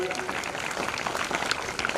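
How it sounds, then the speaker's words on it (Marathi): Clapping from a school audience for students' lezim performance, a busy spread of many hands mixed with crowd murmur and a voice over it, moderately loud and steady. "त्यांच्यासाठी पण आपण टाळ्या वाजूया"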